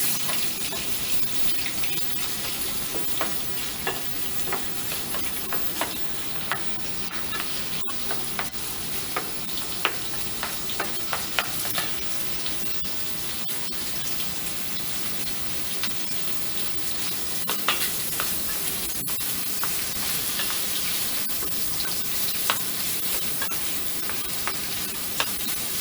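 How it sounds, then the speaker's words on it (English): Smoked sausage and zucchini brown in a skillet, a steady bright sizzle with scattered pops and repeated utensil clicks and scrapes from stirring, close and with no voices over it. "the smoked sausage is browning very nice"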